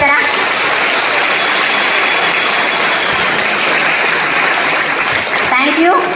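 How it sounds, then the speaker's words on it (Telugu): A meeting audience bursts into loud, sustained clapping, a dense wash of hand claps close and continuous, with a voice breaking in near the end. "వాళ్ళందరి కోసం కూడా ఒక్కసారి గట్టిగా క్లాప్స్ కొడతారా?"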